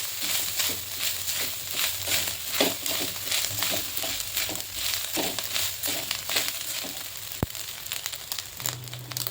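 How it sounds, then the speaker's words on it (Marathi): Dried coconut and onion browning in a pan for a Malvani coconut curry base, giving a steady soft sizzle and crackle with faint scraping and stirring noises throughout. "ते आता कांद्यासोबत असं भाजून घ्यायचं ब्राऊन कलरचं होईपर्यंत."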